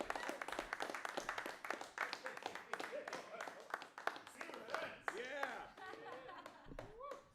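Applause and clapping from a stand-up comedy audience welcoming a comedian to the stage, steady across the whole stretch, with chuckles and a voice talking over it toward the end.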